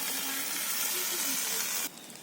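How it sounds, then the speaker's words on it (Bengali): Chopped eggplant and potato hit hot spiced oil with a steady, close hiss and sizzle that runs continuously, dropping in level abruptly near the end. "এবার কেটে রাখা বেগুন আর আলু দিয়ে দিলাম"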